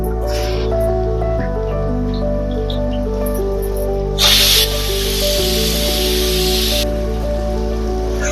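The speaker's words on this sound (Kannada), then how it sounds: "ಇವಾಗ ಶುಂಠಿ ಬೆಳ್ಳುಳ್ಳಿ ಪೇಸ್ಟ್ ಹಾಕ್ಕೊಳ್ಳೋಣ" Ginger garlic paste sizzles and hisses in hot oil with fried onions, a steady close frying crackle throughout with a brighter surge of spitting around the middle, no talking.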